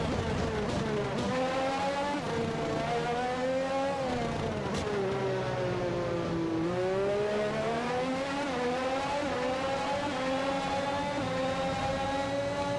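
A damaged Formula 1 car racing at the British Grand Prix in F1 2021, its engine a loud, sustained high-pitched whine rising and falling through gear changes and revs.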